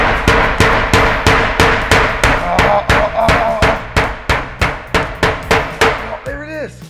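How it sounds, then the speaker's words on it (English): A hammer drives nails into a panel wall with a steady series of loud, close, sharp strikes, about three per second, continuing for several seconds before a brief voice at the end. "We've got a few more nails we got to put in here."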